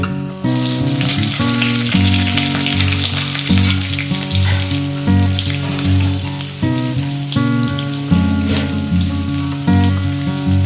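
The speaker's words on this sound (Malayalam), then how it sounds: "ഈ ഉഴുന്ന് പരിപ്പും കടലപ്പരിപ്പും കൂടെ ലേശം അതിട്ട് കൊടുക്കാം." Urad dal and chana dal frying in hot oil for a pumpkin curry, a loud, continuous crackling sizzle with sharp spatters, steady throughout and close, no talking.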